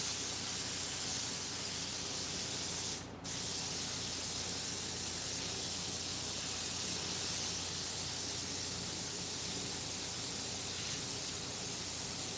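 A can of spray adhesive hisses steadily onto fabric at close range, a continuous soft spray that keeps going almost the whole time with one brief break in a workshop.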